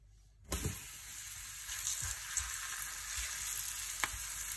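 A spicy Sri Lankan roti drops into hot oil in a pan and starts a loud, steady sizzle that carries on without a break, with a few soft thuds from the pan.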